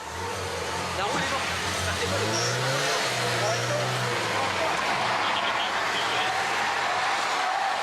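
An accident-damaged car with a broken wheel creeps slowly away, a low engine hum with a brief rise in revs, heard under voices and busy street noise during police tension in Lille.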